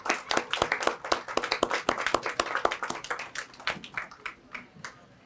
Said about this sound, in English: Let's give our police officers a great big round of applause